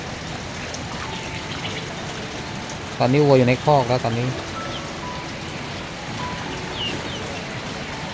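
Rainy-season rain in rural Surin, Thailand, pours as a steady close wash of drops on surfaces, with someone speaking briefly in the middle over the constant patter.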